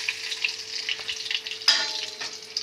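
Bhola fish fry steadily in hot oil, a soft continuous crackle with scattered sharp pops and a brief clatter of utensils partway through, heard alone at moderate volume.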